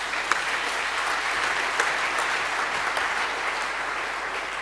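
An audience at a EuroPython 2019 lightning talks session gives sustained applause, a dense, even wash of many hands clapping, fairly loud and continuous throughout with no speech.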